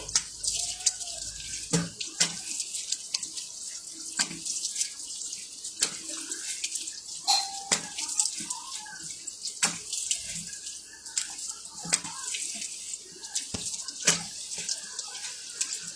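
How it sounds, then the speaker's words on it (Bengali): Tap water runs steadily while a face is washed at a sink, with splashes and a few sharp knocks and clatters scattered through the flow. "আচ্ছা এখন আমি ধুয়ে ফেলতেছি"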